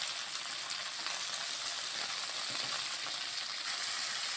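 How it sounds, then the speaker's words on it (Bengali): Flat beans and eggplant, seasoned with salt and turmeric, fry in a pan with an even, hissing sizzle that stays fairly quiet and steady throughout, with faint stirring underneath. "এখন এটা আমি ভালোভাবে একটু ভেজে নিচ্ছি।"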